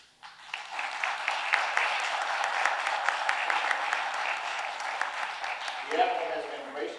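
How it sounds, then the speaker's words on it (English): Sustained applause from an event audience welcoming Admiral Cecil E. Haney at Kingman Park, steady and full for several seconds before a voice begins speaking near the end. "let's give him a warm round of applause"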